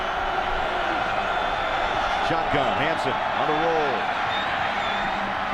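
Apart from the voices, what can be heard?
football stadium crowd cheering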